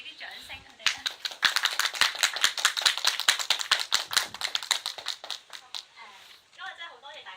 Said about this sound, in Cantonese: 可唔可以俾啲掌聲佢哋咧？